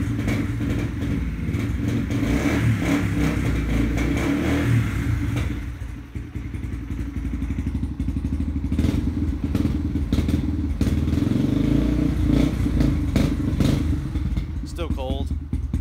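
A cold Yamaha TTR230 dirt bike engine runs with the choke off, a steady close, loud idle with rough thumping and clatter that dips briefly around six seconds, then carries on.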